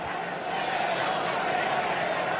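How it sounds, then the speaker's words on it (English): Dense, steady roar of a large crowd gathered for the announcement of Pope Leo XIV, a continuous blended wash of many voices heard from a distance, with no individual words standing out. "the crowd chanting Leo"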